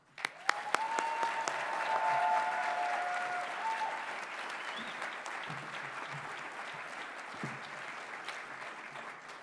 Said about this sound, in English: please join me in applauding Monica Smith, 2018 Florence Nightingale Award winner